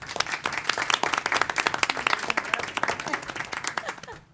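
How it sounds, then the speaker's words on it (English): A room of people applauds at a school committee meeting, steady dense clapping for about four seconds before it cuts off. "she's getting used to these rounds of applause"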